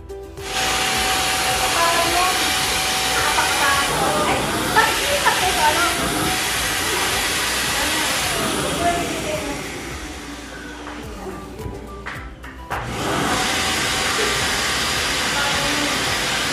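A vacuum cleaner sucks the air out of packed items for a balikbayan box, a loud steady roaring hiss that dips in pitch and briefly cuts out near the end before resuming.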